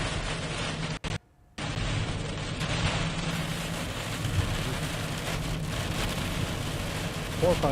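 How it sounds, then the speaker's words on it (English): Heavy rain from a severe thunderstorm near Albany hisses steadily and loudly as a broad wash, with wind and a brief dropout early on. "Oh, we can hear the rain for sure."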